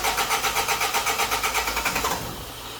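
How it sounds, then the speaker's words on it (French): A Peugeot 205 saved from the scrapyard cranks with a rapid, rhythmic starter churn for about two seconds, then settles into a softer, steady engine hum, close and loud, with no voices. "On va tenter de la démarrer, je te laisse écouter"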